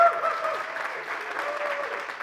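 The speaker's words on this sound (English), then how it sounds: "so we'll just clap quietly for her" Quiet, subdued applause from a conference audience, a soft steady patter of clapping held at low level for a couple of seconds with no voices over it.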